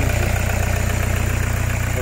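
A van's engine idles nearby with a loud, even, rapid pulsing throb over a steady broadband hum, unbroken throughout.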